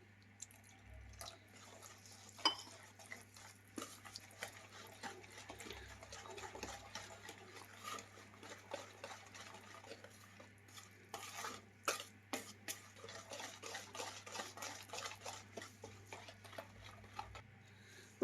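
Buttermilk chocolate fruit cake batter is stirred in one direction in a bowl, giving a steady run of soft, wet scraping and clicking strokes at close range, with no talking.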